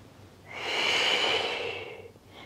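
A single long, close exhale through the nose and mouth during a yoga sun salutation swells and fades over about two seconds, heard alone.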